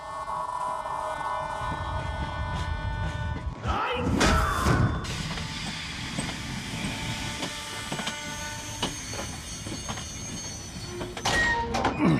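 A train rumbles in with metallic squeals and clanks, fairly close and loud, with a few thuds and a shrill wheel screech near the end.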